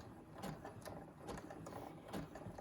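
A sewing machine stitches a fabric basket up close, its steady mechanical whir punctuated by rhythmic bursts of needle clatter over nearly three seconds.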